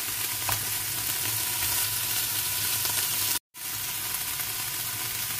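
Mung beans dry-fry in a pan with a steady, dense sizzling hiss and occasional faint scrapes, close and even throughout, with a brief cut of silence partway.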